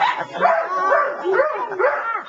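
A dog barking and yipping indoors during a family meal. It gives close, repeated whining yelps in a continuous, wavering string, mixed with some voice.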